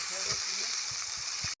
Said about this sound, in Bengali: মশলাটা খুব সুন্দর করে একসঙ্গে কষিয়ে নেব।